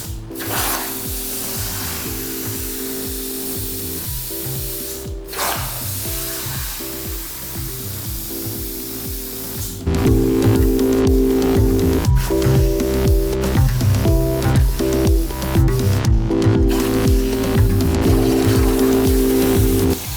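An STV CNC plasma cutter cuts steel rose pieces with a steady hiss and machine hum, growing louder partway through, overlaid by rapid rattling clicks and scraping from the cutting table.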